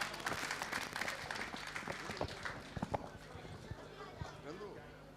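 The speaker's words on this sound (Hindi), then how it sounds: "तालियां बजती रहनी चाहिए।" Audience applause at an Agrasen Jayanti 2023 award ceremony, a steady patter of many hands that rises and then tapers off, heard beneath someone speaking over a microphone.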